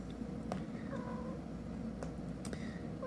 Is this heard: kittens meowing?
yes